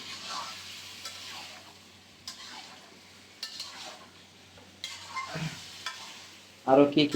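Hilsa fish and small fish fry in a pan while being stirred, soft sizzling punctuated by occasional scrapes and clinks of a utensil, ending in a louder clatter.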